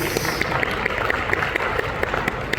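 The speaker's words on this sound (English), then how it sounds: "Let's give that a round of applause" Applause from an audience at a Toyota motoring event, a continuous bed of clapping with sharper individual claps standing out, moderately close and steady.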